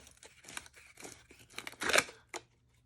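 A plastic bag handled at a crafting desk, crinkling and rustling in short bursts that swell into a louder crunchy crackle near the end before stopping, with no talk.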